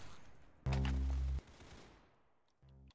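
In a Roblox shooting game, a short loud burst of gunfire stands out against a quiet background, followed by a second brief burst near the end.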